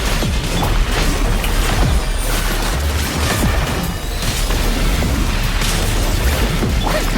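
A dense burst of crashing, shattering noise with booming low rumbles, sustained and loud throughout, an illusion-shattering effect in the video game Genshin Impact.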